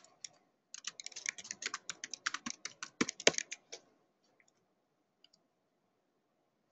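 Rapid keystrokes on a computer keyboard while C++ array code is typed, a dense run of crisp clicks for about three seconds, then stopping with only a few scattered taps after; no one speaks.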